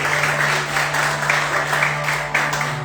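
A church congregation applauds during a worship gathering, a steady wash of dense clapping held at an even level throughout, with a constant low electrical hum running underneath.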